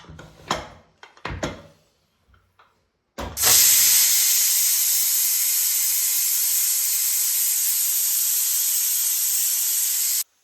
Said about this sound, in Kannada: ಕುಕ್ಕರಲ್ಲಿ ಇದನ್ನು ವಿಜೆಲ್ಲ ಓಡಿಸ್ತೀನಿ